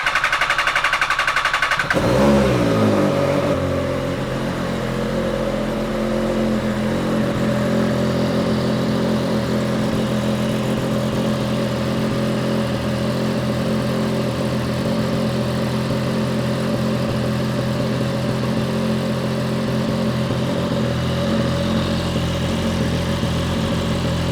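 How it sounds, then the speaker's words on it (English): An MV Agusta F3 motorcycle engine starts with a brief crank and catch, then settles into a steady, even idle that runs on for over twenty seconds, close and continuous with no talk. "Because I need two hands to start the bike, I'll start it first"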